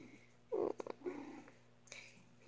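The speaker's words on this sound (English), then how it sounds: "there's my kitty" A fluffy cat purrs softly up close, in short rough rumbling bursts with brief pauses between them, faint and with no talking.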